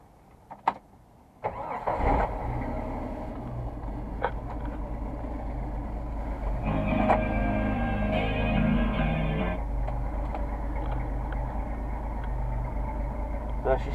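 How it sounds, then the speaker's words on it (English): A 1988 Jeep Wrangler YJ with a carburetor and five-speed swap cranks and starts close by, then settles into a steady, rough idle that swells briefly partway through. "Let's start this thing up for you."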